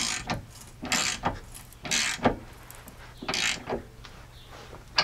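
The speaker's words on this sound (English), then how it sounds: "make sure that they're both nice and tight and the socket goes on nicely for both of them, and then tighten this the rest of the way down." A hand ratchet tightens the tow hook bolts on a Jeep Grand Cherokee WK2, giving several short bursts of rapid clicking close by and fairly quiet, separated by brief pauses.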